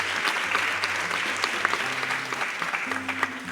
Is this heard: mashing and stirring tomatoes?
no